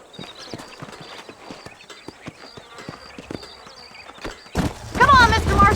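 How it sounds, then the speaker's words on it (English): Horses' hooves clip-clop in a steady, close trot in the western video game Red Dead Redemption, with a brief whinny near the end as someone speaks. "These are fine horses."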